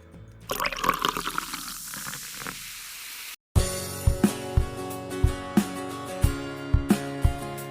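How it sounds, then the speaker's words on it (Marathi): Water pours into a pan of sugar, a steady splashing stream for about three seconds, then a brief gap followed by a run of sharp, regular knocks and clatters with ringing pan tones. "त्यामध्ये साखर बुडेल इतपतच पाणी घालायचं आहे"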